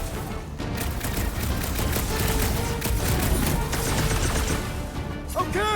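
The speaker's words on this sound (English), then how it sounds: "I'll lay down some cover fire to get you across!" Cover gunfire in the Guardians of the Galaxy video game: a loud, dense, continuous stream of rapid shots and impacts lasting the whole stretch, with a few chirping electronic tones near the end.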